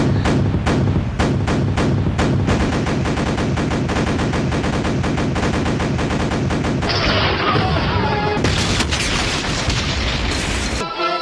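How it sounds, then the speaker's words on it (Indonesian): Rapid, loud barrage of booming cartoon cannon shots fired at a ship, dense and continuous, with sharp blasts repeating for several seconds before a burst of clattering debris. "Perang pun dimulai dengan hujan peluru meriam ke arah kapal Kapten Nobita."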